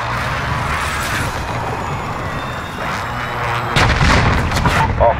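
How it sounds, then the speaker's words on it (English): In Call of Duty Modern Warfare, a cruise missile strike hits at an Atlas Superstore, with a rumbling approach followed by a cluster of loud, rapid explosions near the end. "Cruise missile away."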